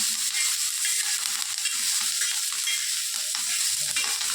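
Green chilies roast and fry in hot oil while being stirred, a steady dense sizzle filling the whole stretch with faint scraping underneath and no voices.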